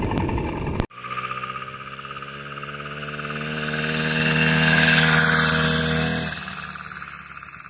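A motorized bike's small engine running steadily with a buzzing droning tone that swells louder midway, following a sharp click at the start, close and alone.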